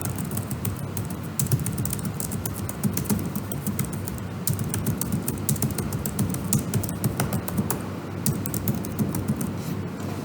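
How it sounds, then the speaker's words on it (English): Steady, fast typing on a computer keyboard at a desk, a dense run of close key clicks over a low background hum, with no talking. "I will type some text there."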